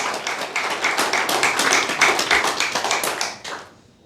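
A church congregation claps in unison during a worship service, a brisk run of about twenty sharp, even claps that fades out at the end.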